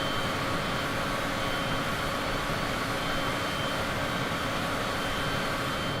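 Airplane engine cruising at low throttle in Microsoft Flight Simulator, a steady unbroken drone with a broad airy roar and faint tonal hum, constant in level throughout with no talk.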